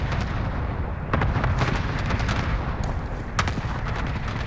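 Artillery strike explosions in Call of Duty: Warzone rumble in a dense, continuous barrage, with sharper blasts cracking out at intervals over the low roar.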